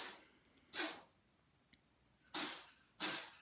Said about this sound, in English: That's my cat sneezing.